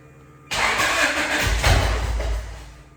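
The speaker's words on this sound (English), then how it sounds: "you key on, and then you hit the start button" A Honda CRX engine cranks briefly and fires up, settling into a loud, steady idle with a rising rumble, close by and with no talking.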